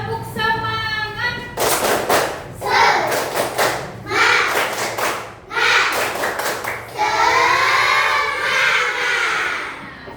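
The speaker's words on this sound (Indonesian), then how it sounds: "Tepuk semangat." Children performing the 'tepuk semangat' spirit clap in a classroom, several bursts of sharp rhythmic group clapping mixed with loud chanted voices, close and energetic, separated by short pauses.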